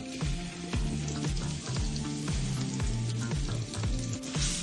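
Chili flakes and garlic sizzle steadily in a hot pan for a spicy prawn linguine, a continuous loud frying hiss with repeated low scraping strokes as the pan is stirred, no voices.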